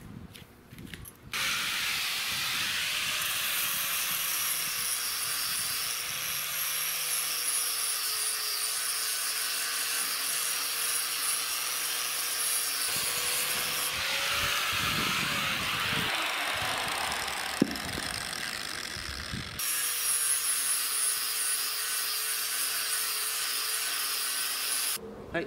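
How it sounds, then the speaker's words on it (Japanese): A power sander smooths the top and bottom ends of a log outdoors while the log is being made into a cactus planter. It gives a steady, close, hissing whir that runs almost unbroken for the whole stretch, with no talking. "この上と下をね、まずね、サンダーで軽くね、"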